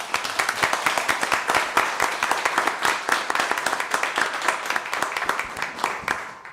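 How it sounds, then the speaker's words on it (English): Audience applause at a city council meeting, a steady patter of many hands clapping for about six seconds with no talk over it, tapering off at the end. "let's give them a round of applause"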